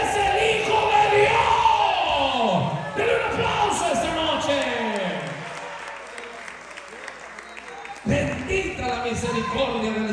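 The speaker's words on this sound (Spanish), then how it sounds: "Denle un aplauso" Church congregation at an evening Spanish-language revival service breaks into loud applause and shouts, the clapping and cheering filling the room, fading over several seconds, then surging again near the end.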